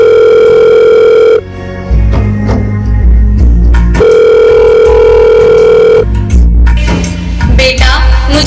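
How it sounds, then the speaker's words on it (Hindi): During a staged school annual-function play, a telephone gives loud steady tones in two long bursts, with broadband stage rumble and shuffling in the gaps between them, close and alone without talk. "अभी फोन करती हूँ बेटे को कि इसी वक्त मुझे यहाँ से घर ले जा"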